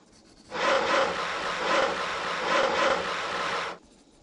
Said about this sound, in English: Cut out 4 legs and cross pieces for the horse with your saw.